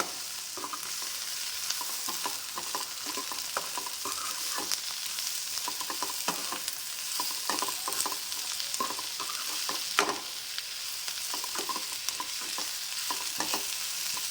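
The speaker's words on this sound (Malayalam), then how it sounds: "നന്നായിട്ടൊന്ന് വഴറ്റിയെടുക്കാം" Bitter gourd sautéing in a pan with turmeric and chili powder, a steady close sizzle broken by frequent scrapes and clicks of a spoon stirring, with no talk.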